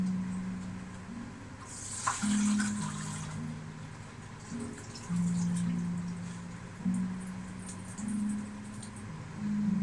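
Water runs from a kitchen tap in a soft, steady splashing stream, with pauses and restarts as the flow shifts, alongside a low electrical hum, while a Scotch pie is being prepared.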